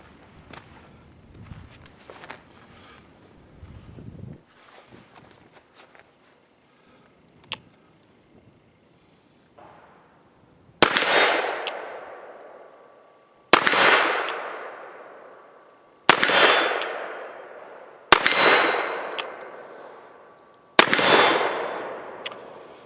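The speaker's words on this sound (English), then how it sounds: "Well, shooting Roy is fun" Six evenly spaced shots from a Remington revolving carbine ring out, each followed by a loud clang of the bullet striking a steel target. Quieter handling noises come first, and nobody talks.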